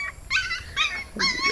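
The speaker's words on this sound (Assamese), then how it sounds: "এইটো আমাৰ কুকুৰটো" A dog gives a few short high yips and whimpers in quick succession, close and fairly quiet, with no talking.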